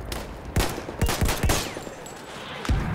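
Gunshots in the Battlefield 1 video game, several sharp cracks spread across a few seconds, with a cluster of three quick shots near the start and one more at the end, over a rushing battlefield background.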